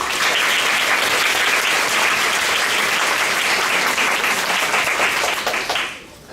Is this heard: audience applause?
yes